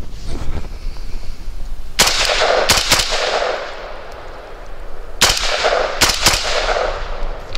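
Two close bursts of rifle fire from an ATI Galeo Galil clone, each a quick pair of sharp, loud shots spaced a few seconds apart, ringing out over steady outdoor background noise.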